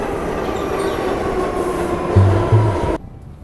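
A New York subway train rides along with steady rumbling and rail noise, a couple of low clunks near the end, then the sound cuts off abruptly; no talking.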